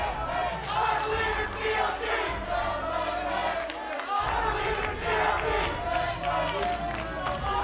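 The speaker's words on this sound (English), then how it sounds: "the crowd getting into it" A large indoor crowd at a League of Legends esports match roars and chants in a sustained, rising wave of cheering, loud and continuous throughout.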